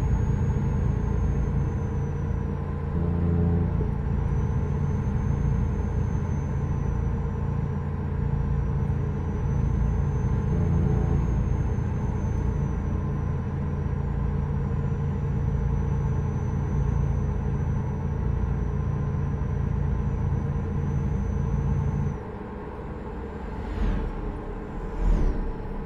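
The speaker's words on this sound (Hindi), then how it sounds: "अरे यार इसका साइलेंट जो इंजन है ना एकदम मजा आया था सुन।" A truck engine in the video game Euro Truck Simulator 2 hums at a steady low rumble, with a faint high whine on top, shifting to a quieter idle near the end with a few clunks.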